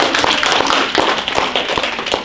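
A room full of people breaks into applause for someone at a training event, dense clapping that stays loud and steady for a couple of seconds.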